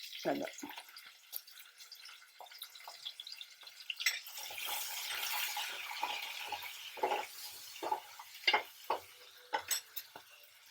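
Green chillies and onion frying in a pan for cauliflower curry, a steady crackling sizzle with scattered pops and clinks of stirring across the whole stretch, with no talk.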